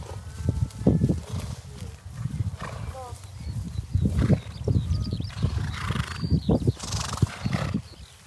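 A horse neighs and hooves clip-clop on a farm, close and fairly loud, while people talk over much of it.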